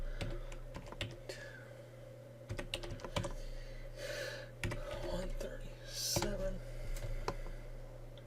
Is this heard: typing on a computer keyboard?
yes